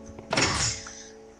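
A single soft thunk of doors opening, triggered by a redstone pressure plate in Minecraft, short and close with no talk.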